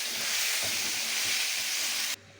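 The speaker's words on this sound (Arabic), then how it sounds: "اهي بصله حلوه كده مبشوره هبتدي انزل بيها وهقلب تقليبه حلوه كده" Grated onion sizzles and fries in a hot pan as it is stirred, a dense steady hiss with faint scraping underneath that stops suddenly near the end.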